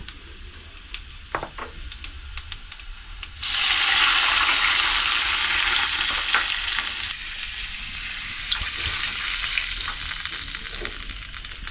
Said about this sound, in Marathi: आता याच्यामध्ये आहे ना पाणी ओतते 2 कप